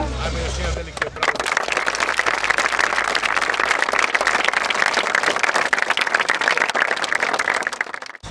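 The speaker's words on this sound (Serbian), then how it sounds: "Ajme još jedan veliki aplauz." An audience bursts into loud, sustained applause at an interview event, dense rapid clapping filling the space after a brief opening moment, with crowd murmur beneath.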